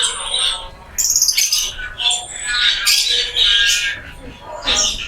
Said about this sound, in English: More budgies.